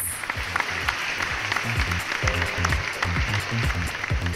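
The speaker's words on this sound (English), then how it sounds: "Round of applause for Anil, please." Audience applause at a panel discussion on mobility: a steady, dense patter of many hands clapping that holds at an even level for the whole stretch, with no voices on top.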